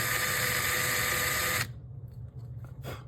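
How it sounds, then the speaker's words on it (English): A power drill whirs loudly and steadily for about a second and a half while boring a shallow hole in a pen mandrel workpiece, then cuts off abruptly, leaving quiet room noise. "what I'm going to do now is just take a drill and just put a shallow hole on either side"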